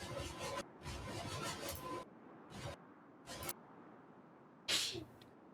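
A person's sneeze, one short sharp burst near the end, heard close up after a few brief rustling noises in an otherwise quiet room.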